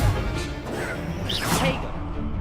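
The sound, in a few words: spell casting effects in video game Hogwarts Legacy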